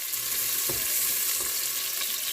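Onion frying in a pan for a chickpea dish: a steady, close sizzle with a couple of soft stirring knocks.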